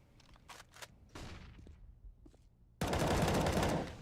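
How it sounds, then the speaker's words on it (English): Counter-Strike: Global Offensive gunfire in a competitive match: a few scattered shots and footsteps, then a loud sustained burst of rapid automatic fire near the end. "Surreal peeks out, takes down Disco"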